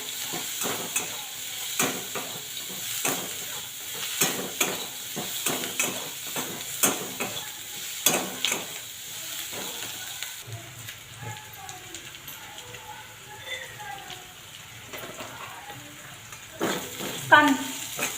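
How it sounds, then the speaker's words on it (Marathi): Onion frying in a pan with coriander for kanda pohe: a soft, continuous sizzle with repeated stirring scrapes, quiet and close, and someone talking over it much of the time. "आणि कांदा भाजत असताना थोडीशी कोथिंबीर टाकून घ्यावी"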